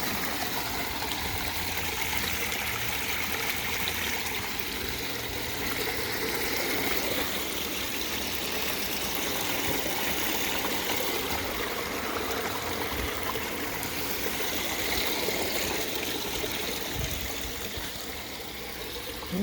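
Water flowing through a homemade DIY highbanker gold-prospecting sluice that leaks badly, a steady, loud rushing stream with trickling and splashing throughout, no talk.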